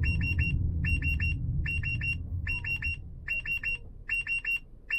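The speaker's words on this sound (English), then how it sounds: "the alarms are getting higher" Epilog SideCar driver monitor alarm sounding inside a moving car: repeated clusters of sharp, rapid electronic beeps in quick bursts, loud and close over a low road rumble.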